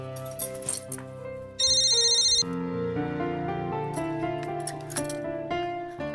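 A phone rings out while a call is placed to a grandmother, a bright electronic ringtone tone repeating over about a second amid ongoing background music, fairly loud and close.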